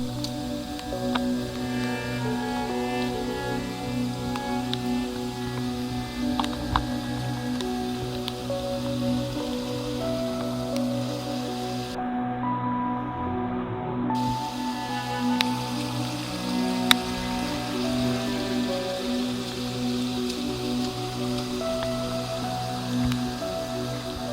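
Steady rain patters on the foliage of a monsoon-season forest trek to Kudremukha, a soft constant wash with a low, even hum beneath it and no voices.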